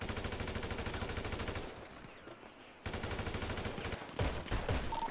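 Rapid gunfire rattles almost continuously in a GTA shootout, a dense automatic stream that briefly thins before resuming at full intensity.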